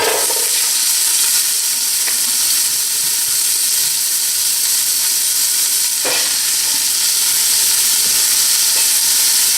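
Onions sizzle in about two ounces of hot salad oil for black bean soup, a loud, steady frying hiss that fills the whole stretch, with a couple of faint clinks along the way.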